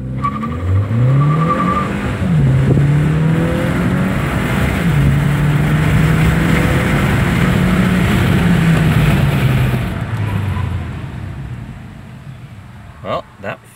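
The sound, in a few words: 2015 Hyundai Sonata Eco accelerating 0 to 60 with modified turbo intake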